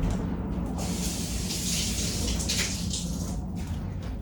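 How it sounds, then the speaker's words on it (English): Tap water pours steadily into a container for a home kombucha brew, a continuous rushing splash with brief surges, close and alone without any voices. "So it's actually going to be filling this with water"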